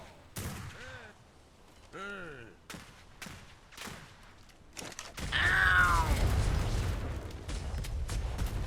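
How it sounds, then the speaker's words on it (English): Small arms gunfire from the top of a mortar tower in a Royal Navy roleplay video game, scattered distant shots under voices and radio-like chatter, then a dense rumbling fusillade swells and continues. "Got small arms from the top of the mortar tower."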